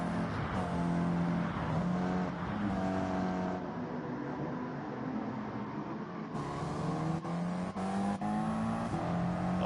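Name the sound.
stock cars racing in Gran Turismo 7 video game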